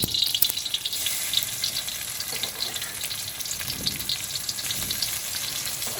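Chili and garlic frying in leftover oil after brinjal has been cooked, giving a steady, close hiss and crackle of sizzling that runs on without pause and with no one speaking.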